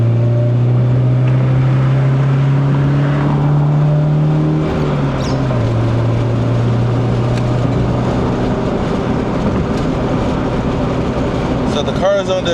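A bone-stock 1990s Honda car cruises on the expressway with the windows down and no air conditioning, a steady engine drone that shifts pitch midway, wrapped in constant wind and road roar.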